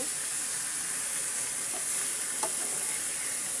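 Sliced bitter gourd stir-fries in hot oil in a pan, a loud, close, continuous hiss of sizzling with a couple of faint utensil touches and no one speaking.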